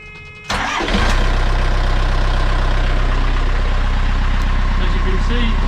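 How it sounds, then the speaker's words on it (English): A car engine cranks and catches after an oil change, then settles into a steady, loud, close idle with an even rhythmic throb. "and we'll just start the engine again."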